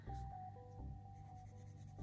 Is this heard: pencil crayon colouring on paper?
yes